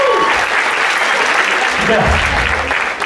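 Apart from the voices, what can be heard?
audience applause at a hypnosis show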